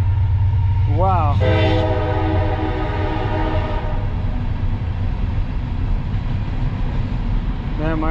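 A loud, wavering horn blast sounds over the constant low roar of a train passing close by a roadside near SR-50 and Burwell Road, which keeps rumbling steadily, with another brief horn swell at the end.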